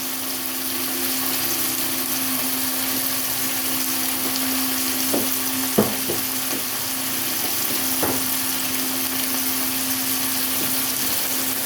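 Meat and onions fry steadily in a pan, giving a continuous loud sizzle with a few brief clinks and scrapes of stirring; nobody speaks.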